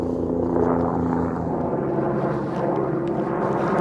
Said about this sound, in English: I think this guy in the helicopter here is learning how to fly